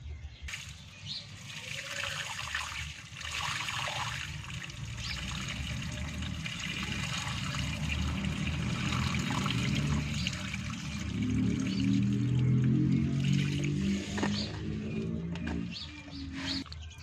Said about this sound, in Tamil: இப்படி தண்ணி ஊற்றி கழுவுணுமா